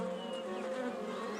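Bees buzzing around flowering blossoms, a steady close droning hum that holds evenly throughout with no other sounds.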